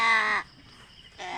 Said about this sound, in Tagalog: So ang talino pala talaga ng mga uwak.